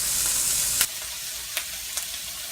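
Potatoes fry in an oiled pan seasoned with salt, giving a steady bright sizzle that drops a little in volume partway through, with a few sharp clicks of a utensil against the pan.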